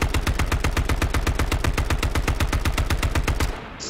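AK rifle firing a long rapid burst in a multiplayer video game, evenly spaced loud cracks in quick succession for several seconds before cutting off abruptly.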